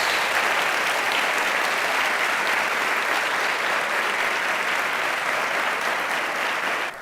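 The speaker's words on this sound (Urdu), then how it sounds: "زوردار تالیاں اس برے کے لیے" Loud, sustained applause from a church congregation, a dense even roar of clapping lasting several seconds before easing off at the end.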